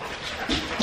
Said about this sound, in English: That was my dog, if you heard that.